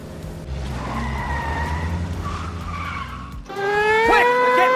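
Car tires skid and squeal during a street race in the L.A. Noire video game, with a rumbling engine under a long screech that turns sharper and louder near the end.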